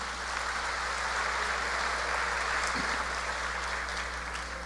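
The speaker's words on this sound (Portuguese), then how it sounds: "Isto, aplauda, é isto mesmo," A church congregation applauding together during a sermon, a steady dense wash of clapping throughout, with faint room hum underneath and no clear talk.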